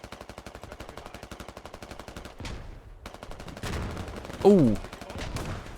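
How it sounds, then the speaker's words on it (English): Rapid automatic gunfire rattles in a steady stream during a large modern military game battle, then a grenade blast bursts close by and low rumbling explosions follow, with a man briefly exclaiming. "but now the hand grenades are flying in"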